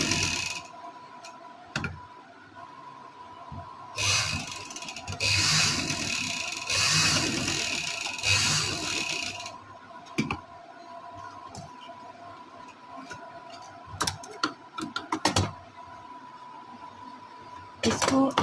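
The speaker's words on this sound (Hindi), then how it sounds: "यहाँ से अब मैंने सिलाई लगानी है इस तरह" Sewing machine stitching a V-shape neckline on fabric, with bursts of fast mechanical ticking and whirring run between pauses, close and moderately quiet, plus small clicks and handling noises.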